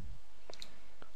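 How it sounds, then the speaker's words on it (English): A computer mouse double-clicks once, two faint, crisp taps in quick succession near the middle, then a single further soft click, over quiet background hiss. "double click on the device"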